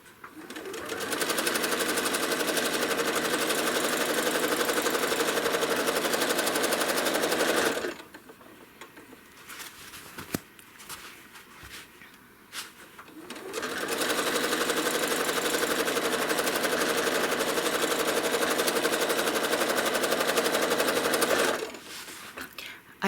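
A home sewing machine machine-quilting a star quilt runs in two long, steady bursts of fast, even stitching, close and loud, separated by a quiet pause of several seconds with faint handling sounds.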